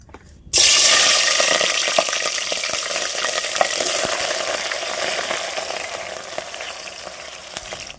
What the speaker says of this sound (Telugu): ఆయిల్ వేడెక్కిన తర్వాత ఉల్లిపాయ ముక్కలు పచ్చిమిరకాయ ముక్కలు వేసుకోవాలి